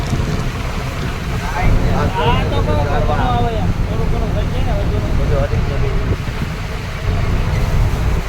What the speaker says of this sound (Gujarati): પવનની ગતિ વધતી રહી છે